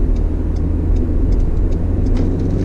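A 2019 Ford Ranger pickup truck on the move, its engine a steady low rumble under road and tyre noise heard from inside the cabin, even and continuous with no talk.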